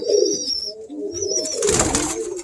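Birmingham roller pigeon cooing in low soft pulses, close by, with a burst of wing flutter or rustling near the end and no talk.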